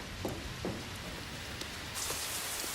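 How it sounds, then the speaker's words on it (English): Steady rain falls in an even hiss of drops on surfaces, faint and continuous, swelling slightly heavier partway through, with no talk. "It is here at last, the rain that washes away our sins"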